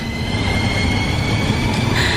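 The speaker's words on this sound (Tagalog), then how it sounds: "Nandito na tayo sa next station. Hihinto na ang tren." A train rumbles steadily into a station, its loud, continuous wheel roar and carriage noise filling the space, with a faint high squeal creeping in near the end as it begins slowing.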